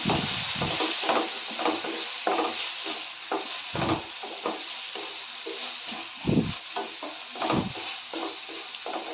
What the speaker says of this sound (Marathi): डाळ घालून एक दोन मिनटं परतून घेऊया